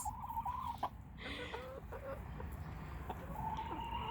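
Garden chickens cluck and murmur nearby, with several short clucks and a drawn-out call over faint outdoor background noise.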